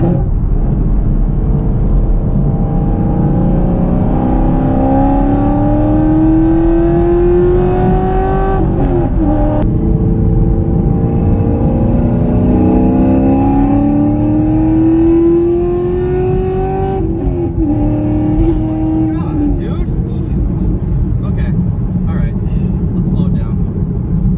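A car engine revs loud and close as the driver downshifts from fifth to third, with rising and falling engine pitch sweeps between shifts and a person talking over the engine throughout.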